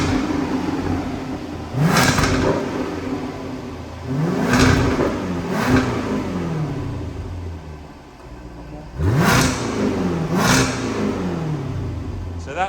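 Supercharged 5.0-litre V8 of a Jaguar F-Type R with exhaust valves open, revved hard in a series of sharp blips, each rising and dropping back to a burbling idle, loud and close with brief talk at times.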